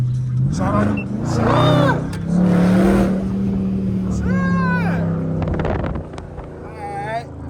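SRT car engine rumbling inside the cabin, a low steady drone with rising revving sweeps under people talking.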